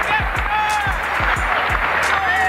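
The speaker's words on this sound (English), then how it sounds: "Let's give Sachi a round of applause" A round of applause for a guest on a live stream, with clapping and a few sharp low thumps over a steady crowd wash, under a tonal background hum.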